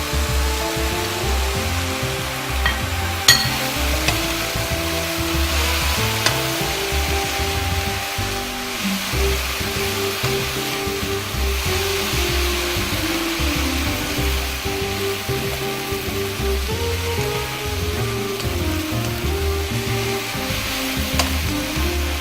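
Bacon frying in a pan, a steady loud sizzle running throughout with occasional scraping as it is stirred, no voices.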